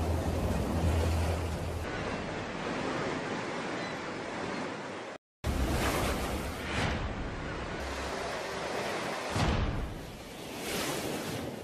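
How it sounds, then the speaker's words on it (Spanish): Ocean waves break and surge onto a beach in loud, rolling washes of surf with wind, cutting out briefly in the middle before the crashing resumes. "Vas andando por la playa, miras las olas que vienen."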